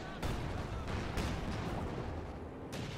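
Heavy anti-tank gunfire in the World War II strategy game Company of Heroes 2 booms in dense, rumbling overlapping blasts, continuous and fairly distant, with sharper reports punctuating the roar.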